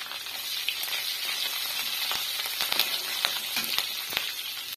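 Green chilli, ginger and garlic sizzle in hot oil with a soft, even hiss and occasional small crackles and pops, close and steady with no talking.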